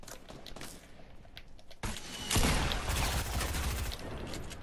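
Fortnite gunfire in a busy firefight, a steady crackle of shots that swells suddenly into a louder, denser barrage partway through and keeps going to the end.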